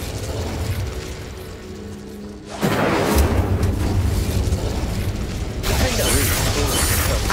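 A fire spell cast in Hogwarts Legacy erupts as a sudden loud whooshing burst partway through, then roars on steadily, with a second surge of crackling flame near the end over game ambience.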